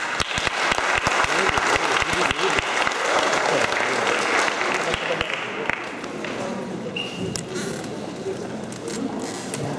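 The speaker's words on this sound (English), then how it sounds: "Round of applause." A room full of people applauds after a talk about Charlie Chaplin, loud, close clapping that is thick at first and thins slightly toward the end, with faint voices underneath.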